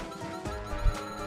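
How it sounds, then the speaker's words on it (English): A donkey brays in the Mario Party 10 video game, one short, harsh, wheezy cry at moderate volume. "Ooh, donkey."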